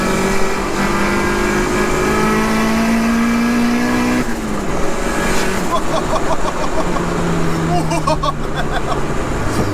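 A 370bhp VTEC turbo Mini accelerating hard on boost with the screamer pipe open, a loud, rising engine roar heard from inside the car, with a gear change partway through and turbo whoosh and chatter afterward.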